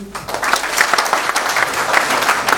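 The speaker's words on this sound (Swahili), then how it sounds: "Asante, makofi." A crowd at a Scouts celebration applauds, with sustained, lively clapping from many hands, loud and continuous with slight swells in intensity.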